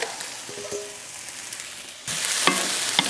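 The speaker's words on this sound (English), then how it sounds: "into our pot here, we're going to add our carrots and our potatoes" Chopped carrots and potatoes tumble into a cooking pot for homemade chicken noodle soup, first a few soft knocks, then a sudden loud burst of sizzling and clatter as they land, continuing to the end.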